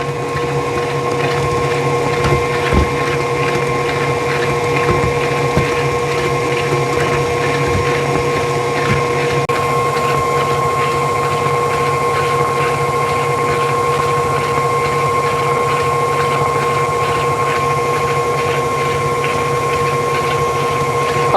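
An electric mixer creams sugar and butter for snickerdoodle cookie dough, a loud steady motor whine with a constant pitched hum, droning without a break, beaters now and then knocking against the bowl.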